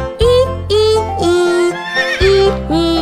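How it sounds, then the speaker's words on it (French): A horse neighs in a series of high, wavering whinnies, loud and close, several bursts in a row with brief pauses between them, in a children's nursery rhyme song. "Le cheval dans le bus fait"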